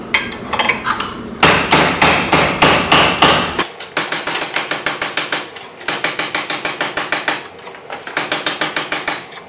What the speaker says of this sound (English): after a bit of beating with the hammer, the copper bracelet is pretty much done